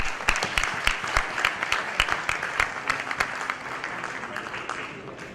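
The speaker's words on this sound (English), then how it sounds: "Ladies and gentlemen, a huge round of applause for Mr. Murj Magnani." Audience applause at an awards ceremony, dense clapping from a crowd of many hands that starts strong and gradually thins and softens over several seconds.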